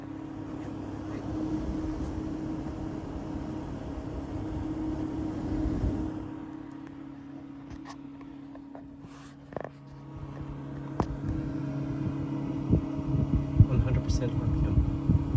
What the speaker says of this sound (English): ThermalRight TL-B12 noise test